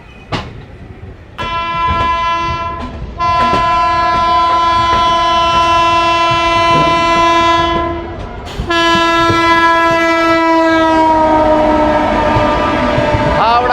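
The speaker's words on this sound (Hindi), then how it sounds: "नई दिल्ली राजधानी एक्सप्रेस जा रही है।" The New Delhi Rajdhani Express rushes close by on the busy Aligarh–Kanpur section, sounding long, loud horn blasts over a heavy rolling rumble with faint clickety-clack of the wheels.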